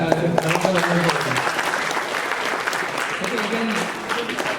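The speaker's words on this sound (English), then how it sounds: "give a big round of applause" An audience at a training event claps in a steady, dense round of applause, with voices briefly audible over the clapping near the start.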